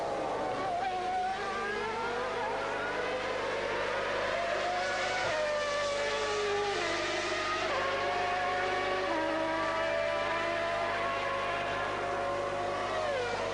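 Formula 1 race cars at the 1994 German Grand Prix, high-pitched engines screaming and shifting through gears as several cars pass, loud and continuous, with commentary underneath.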